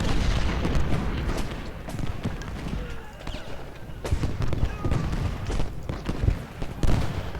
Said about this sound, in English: a lot of canister shot